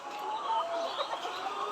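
Layer hens on a poultry farm cluck and murmur continuously at moderate distance, a soft overlapping chorus of fowl calls without pauses.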